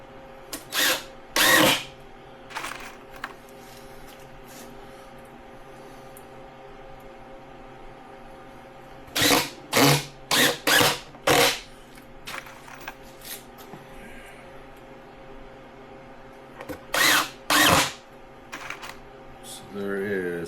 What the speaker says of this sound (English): make sure when you're drilling like this, you keep your drill nice and straight so your screws don't end up poking out